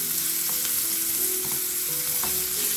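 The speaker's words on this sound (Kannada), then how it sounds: "ಇದೊಂದು ಸ್ವಲ್ಪ ರೆಡಿಶ್ ಆಗೋ ತನಕ ನಾವು ಫ್ರೈ ಮಾಡ್ಕೋಬೇಕು" Finely chopped onions fry in a hot pan with a constant close hiss and sizzle, broken by a few light clinks and scrapes of stirring.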